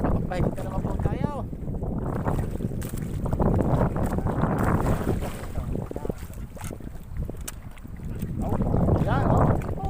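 Amihan monsoon wind roars steadily across the open sea around a small fishing boat, with buffeting gusts and rushing water, while people talk loudly over it.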